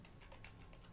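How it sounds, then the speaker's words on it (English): Quick run of soft computer keyboard taps while entering a web address into a browser address bar, about six close keystrokes in one second over a faint steady hiss. "I'm going to type in"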